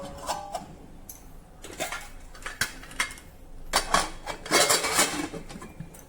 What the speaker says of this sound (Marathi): कुकरचं झाकण बंद करून घेतलं